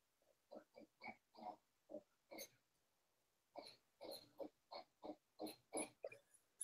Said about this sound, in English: Listen to that pig.